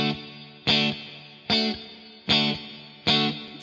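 Electric guitar through a ToneX pedal with plate reverb plays four evenly spaced strummed chords, each bright attack decaying into a lush, shimmering tail, loud and alone.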